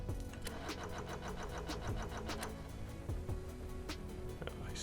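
Backup engine running on a player-built ship in Stormworks, a fast rhythmic mechanical chugging with regular ticking pulses, fairly quiet and steady, without speech.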